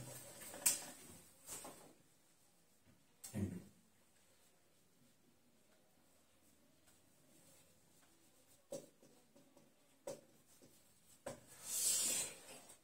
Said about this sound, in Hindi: साइड में लिख रहा हूं मैं तुम्हें।